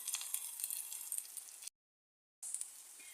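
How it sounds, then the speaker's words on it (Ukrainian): Potato zrazy stuffed with minced meat fry in a pan with a faint, steady hissing sizzle that cuts out completely for a moment before resuming. "Отак підділа і потім переношу сюди, отак переворачую і смажу."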